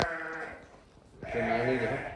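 Sheep and lambs on a farm bleat close by, two wavering cries separated by a short pause, with background noise around them.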